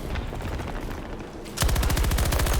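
Rifle fire in Battlefield 2042 breaks out after a stretch of low background rumble, becoming a loud, rapid, steady automatic burst that runs to the end.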